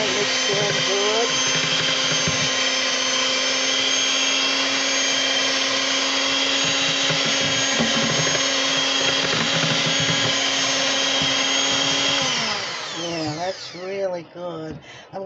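Electric mixer beating vanilla butter pound cake batter, a loud, steady whirring motor drone that runs unbroken for about twelve seconds, then winds down and stops as a voice begins talking.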